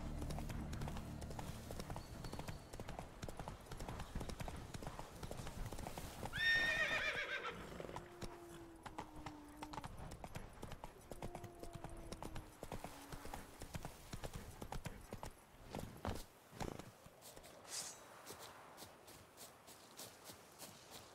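Roach, the horse in The Witcher 3: Blood and Wine, runs with steady, close clip-clop hoofbeats, and a loud whinny rises over the hooves partway through.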